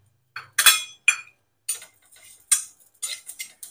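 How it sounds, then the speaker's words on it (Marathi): Sesame seeds being dry-roasted in a pan, with a series of sharp metallic clinks and scrapes of a spoon against the pan, spaced irregularly with brief silences between them. "तीळ भाजून घेऊ."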